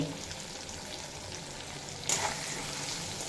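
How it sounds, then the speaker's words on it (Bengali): Drumstick stems fry in a pan with salt, turmeric and Kashmiri chilli powder, producing a constant soft sizzle that swells into a brief louder hiss partway through. "দিয়ে এক দু মিনিট মতো ভেজে কষিয়ে নেব"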